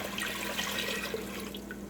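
White vinegar poured from a measure, four cups, for a cabbage relish, a steady liquid stream splashing and running continuously for a couple of seconds at close range with no voices.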